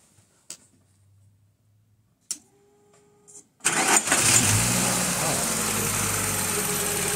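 A 1995 VW T4 van with an ACU engine, one that stalls when warm, is heard: after a few quiet clicks and a brief whirr, the engine catches and settles into a steady, loud idle.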